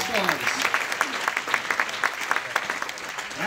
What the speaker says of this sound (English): I want to give a huge round of applause for everybody that was in front of this room tonight